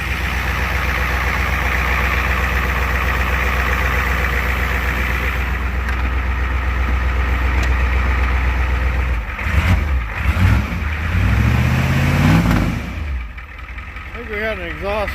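A 1988 Ford truck idles with an exhaust leak from a holed muffler. The engine holds a steady, rumbling note close by, then wavers and shifts near the end.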